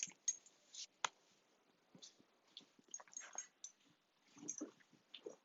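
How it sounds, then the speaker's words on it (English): A dog jumping up on a person indoors, with scattered claw clicks, soft whimpers and yips, and a sharp thump, irregular and fairly close. "Sorry, a dog is jumping on me."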